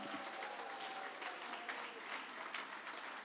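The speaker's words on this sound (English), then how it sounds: "Can we give them a warm hand clap?" Attendees at an international conference for women birders give a sustained round of applause, a soft, even wash of clapping heard from some distance in a large room with a faint tone running beneath.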